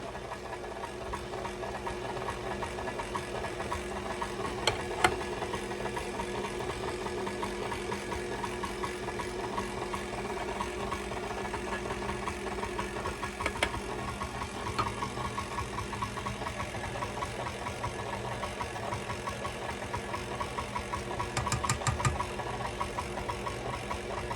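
An electric mixer runs on low through whipped cream and pudding mixture with a steady, faint motor hum. Occasional clicks from the beaters against the bowl sound over the whir, which continues throughout.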